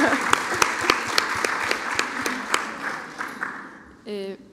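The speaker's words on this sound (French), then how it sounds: "Un bon applaudissement pour Laurie" An audience at a university presentation bursts into dense, sustained applause with scattered sharper claps that gradually thins out before a voice begins speaking at the end.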